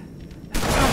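Shotgun fire in a video game: a single loud, close blast bursting in halfway through, after a quieter lead-in.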